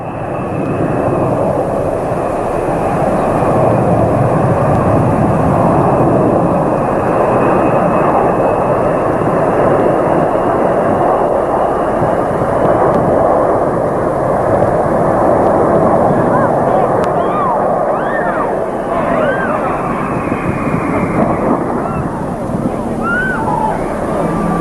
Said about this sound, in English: as the B-52 made an approach to land, Holland was waved off and given the instruction to go around for another landing